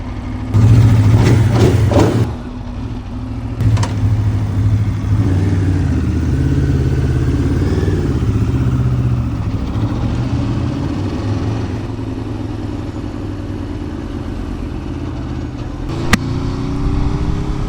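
Aprilia Xtrenta track motorcycle engine idling steadily while warming up, a close, low continuous rumble with a brief louder blip near the start and one sharp click later.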